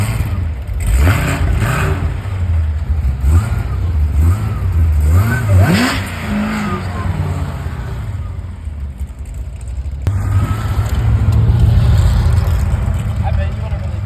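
A car engine revving at an outdoor car meet, several loud rising and falling throttle blips close by, then a sustained rumbling idle, with people talking and shouting over it.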